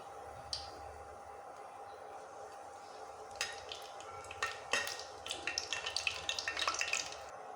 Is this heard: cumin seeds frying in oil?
yes